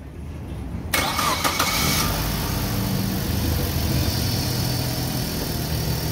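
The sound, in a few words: Suzuki car engine starting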